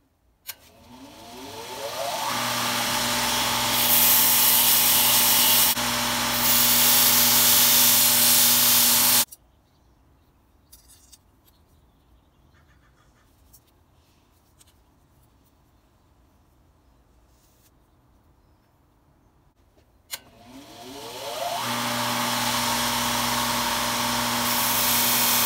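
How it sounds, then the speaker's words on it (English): A belt grinder roars loudly as the bevel of a blade from a 102-year-old Stanley No. 5 hand plane is ground against the belt, in two long bursts separated by about ten seconds of near silence. "To the belt grinder we go."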